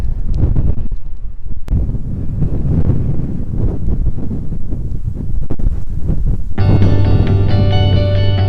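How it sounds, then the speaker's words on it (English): Strong wind buffets the microphone outdoors in Boulder, Colorado, a loud continuous low roar and rumble throughout, with a steady tonal hum joining in near the end. "every time I film, the wind just like kicks up like crazy"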